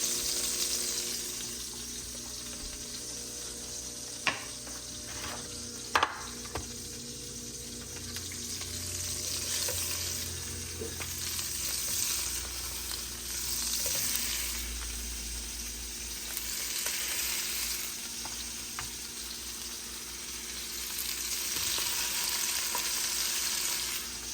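Tiger prawns fry in a pan with a steady broadband sizzle that swells and fades, with a few sharp clicks and light stirring scrapes, and no talk.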